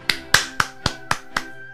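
Six sharp hand claps, evenly spaced, ring out close and crisp with no other voices present.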